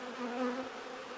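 Honeybees buzz around an open double deep frame hive during an inspection, a close, steady droning hum that swells slightly midway and carries on alone without voices.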